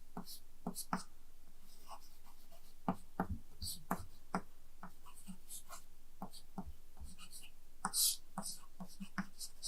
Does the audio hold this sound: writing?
yes